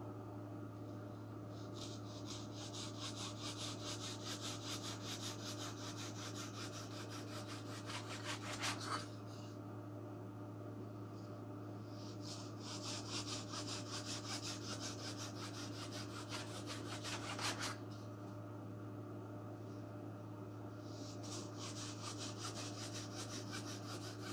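A Zona-style hand saw cuts wood for a Top Flite P-51D Mustang model airplane wing, three bursts of quick rasping back-and-forth strokes, close and fairly quiet over a low steady background hum.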